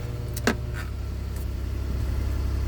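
A 2013-2019 Ford Flex EcoBoost engine idles steadily after a throttle body replacement, with an even low rumble and a brief mechanical click near the start, and no talking.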